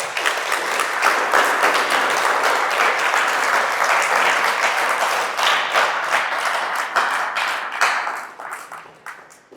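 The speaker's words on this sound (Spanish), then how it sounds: "Denle un aplauso, por favor." Church congregation applauding steadily after a sermon, a dense, loud wash of clapping that holds for most of the stretch before tapering off at the end.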